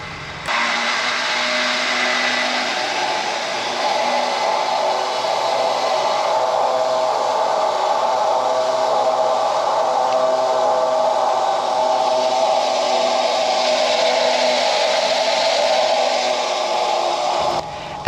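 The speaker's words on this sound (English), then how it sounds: "So it was back out with the winch again." An off-road vehicle's winch hauls steadily at the Smokin Tyres VHC adventure event, giving a continuous, loud whirring motor drone that holds for about seventeen seconds and then cuts off abruptly.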